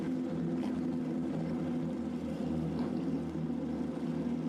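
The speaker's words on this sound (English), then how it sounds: "The unmistakable sound of flat 6 engines cracking the afternoon heat at Zhuhai" Porsche flat-six race car engines at the Zhuhai circuit, during a Carrera Cup Asia race, drone in a steady, dense, continuous roar with no pauses.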